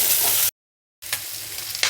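Onions frying in a spoonful of oil in a pan, a steady bright sizzle that cuts out for half a second, then resumes with light stirring scrapes.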